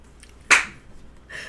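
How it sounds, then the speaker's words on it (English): A single sharp clap from a producer off to the side of a home studio set, one short bright burst standing alone with faint background around it. "Little clapping noise by our producer."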